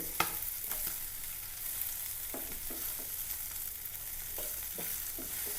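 Pearlspot fish frying in a pan gives a steady, close sizzle throughout, broken by occasional soft clicks and scrapes as the fish is turned.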